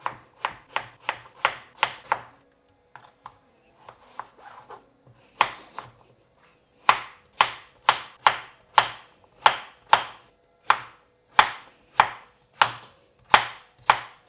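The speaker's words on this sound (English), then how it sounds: "chop it into 1-inch pieces. Just cut them into cubes." A knife chops a peeled bottle gourd into one-inch cubes on a board, with rapid crisp strokes, a short uneven pause, then a steady run of louder, evenly spaced chops, close and with no talking.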